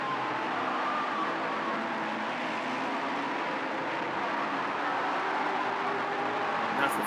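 A Ferrari race car at Japan Cup qualifying at Sugo, Japan, makes a loud, steady engine roar that holds across the whole stretch without a clear rise or fade of a pass.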